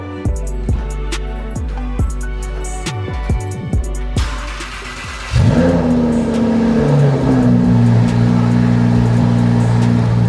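A Lamborghini cold start: the engine cranks with rapid starter clicks, then fires up and roars loudly, settling into a strong, rumbling idle close by.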